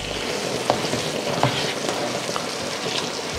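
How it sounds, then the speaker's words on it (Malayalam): Sardine roast masala gravy with curry leaves sizzles and crackles steadily in a hot pan, with a few soft scrapes and clicks of stirring over the continuous frying hiss, close and alone. "ചൂടായി വരുന്ന നമ്മുടെ ഗ്രേവിയിലോട്ട് നാടൻ കരിയാപ്പില സല ഇട്ട് കൊടുക്കാം."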